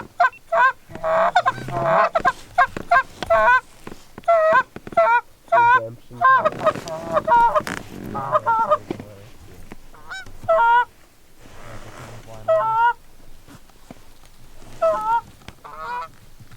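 Canada geese honking repeatedly during an early-season goose hunt in North Dakota, a loud flock calling in bursts up close with people talking quietly between calls.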